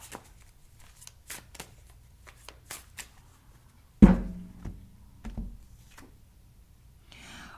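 Tarot cards being shuffled and one drawn, a few soft riffling taps and then a louder slap and slide of cards near the microphone, with no talking.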